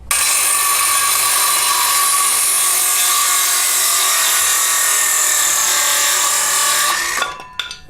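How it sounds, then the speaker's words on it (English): A miter saw cuts through wood trim for a flower box, one steady loud whining cut lasting about seven seconds before the blade winds down and stops. "let's make our cuts. I actually have a miter saw"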